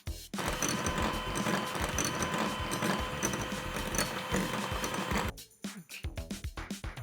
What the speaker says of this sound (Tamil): அது ஒன்று ஒரு பவுலில் போட்டு மிக்ஸ் பண்ணிக்கலாம்.